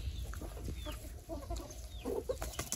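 Free-range country chickens eating green grass, soft scattered clucks and small calls at close range over a low outdoor rumble.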